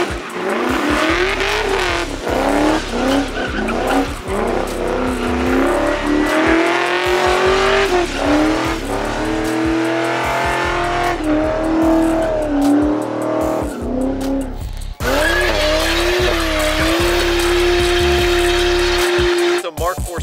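Loud engine noise from a drag race between an LS3 V8 swapped Chevy C10 and a Porsche GT3: a sustained, rising roar with gear-change breaks and an abrupt surge midway, dominating throughout.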